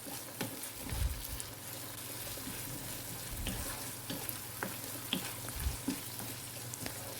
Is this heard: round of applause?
no